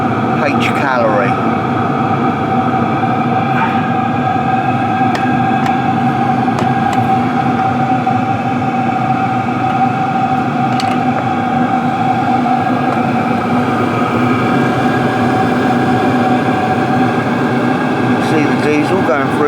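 Hcalory Toolbox 2 compact diesel heater running, a loud steady humming drone with tonal whine throughout, occasional faint clicks over it, and someone talking at times.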